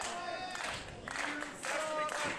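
Wrestling fans at an FSW No Limits title match cheer and clap for Brandon Gatson in faint, swelling waves of crowd noise.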